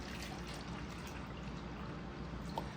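Rinseless car wash concentrate, a Phoenix EOD product, poured into a container of water, giving a soft continuous trickling and splashing stream, close and fairly quiet, with one small drip near the end.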